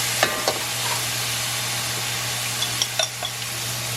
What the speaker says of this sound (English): basically we want to bunjay this meat or sear the meat with all of the spices